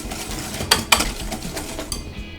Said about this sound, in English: we need to whisk that up until it's nice and thick and pale